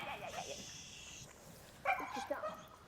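A dog yips, barks and whimpers in agitation indoors beside a chicken, with short bursts near and fairly loud under excited talk from people trying to hold it.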